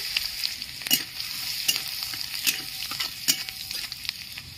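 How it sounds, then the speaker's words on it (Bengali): Nigella seeds, a dried chili and chopped garlic sizzling in hot oil, close and crackling steadily, with sharp spatter pops and a few stirring scrapes, no talk. "তেল গরম হয়ে গেছে, কালো জিরে ফোড়ন দিয়ে দিচ্ছি, একটা শুকনো লঙ্কা দিয়ে দিচ্ছি, রসুন কুচি দিয়ে দিচ্ছি"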